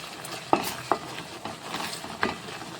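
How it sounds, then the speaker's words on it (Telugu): A thick milk sweet mixture (palakova) is stirred in a pan, with a soft cooking hiss underneath and three sharp scraping knocks of the utensil against the pan spaced across the short stretch. "ఇట్లా కలుపుకుంటా మంచిగా దగ్గరికి అయిపోతుంది."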